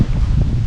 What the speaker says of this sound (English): Now it's blowing at 12, gusting to 15 or 17